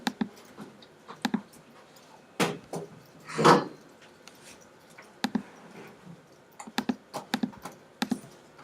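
Keystrokes on a computer keyboard tapping out a name in Adobe Illustrator, arriving in short irregular bursts with pauses, plus one louder knock or clunk in the middle, fairly close.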